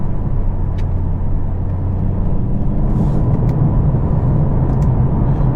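A 2022 Mercedes CLA45s engine runs in race mode with a steady, loud rumble as its eight-speed dual-clutch gearbox snaps through quick paddle shifts, heard close from inside the cabin with no talking.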